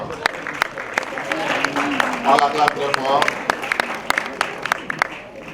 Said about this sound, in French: On l'acclame très fort.